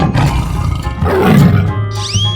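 A tiger in a 3D animal slide game lets out a loud, rough roar lasting about two seconds, with game music beneath and a bright chime rising at the end.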